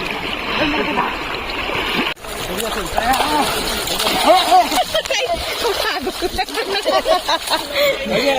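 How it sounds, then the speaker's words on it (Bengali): People bathing in a river at a picnic spot, with irregular splashing and sloshing water close by, mixed with overlapping voices and laughter and a sharp break partway through. "দুধিয়াতে স্নান শুরু হয়ে গেল সবাই চান করছে"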